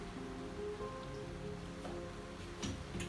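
Steady rain falls just outside an open doorway, a soft, continuous patter with scattered drops, fairly faint and even throughout, with no voices.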